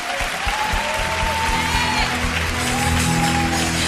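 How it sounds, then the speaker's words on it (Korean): A church congregation claps during a Sunday worship service, with steady, loud applause over sustained organ or keyboard chords and a faint voice drifting above. "영광의 박수 올려드리겠습니다."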